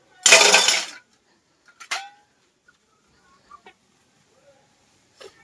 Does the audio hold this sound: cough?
no